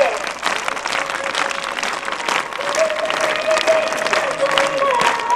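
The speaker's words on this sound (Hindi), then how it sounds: "सभी जोर से तालियां बजाएं," Loud, sustained applause from a large crowd at a Brahma Kumaris gathering, with a voice and some tonal sounds carrying over the clapping.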